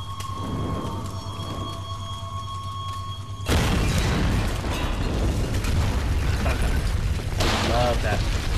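A loud explosion in the Tomb Raider video game bursts in suddenly and then gives way to a sustained roaring, crackling rumble of debris and fire, following a quieter stretch of game ambience.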